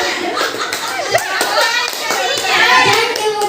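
A group of adults claps together in irregular bursts of hand claps, close and fairly loud, with voices and chatter mixed in throughout.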